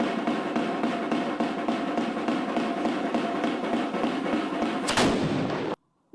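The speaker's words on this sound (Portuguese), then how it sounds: "é saudado com disparo de tiro de canhão." Cannon salute fired at the historic Quartel da Montanha in Caracas, a dense run of rapid booming reports and cracks rolling steadily through the clip, with one sharp louder blast near the end before a sudden cut.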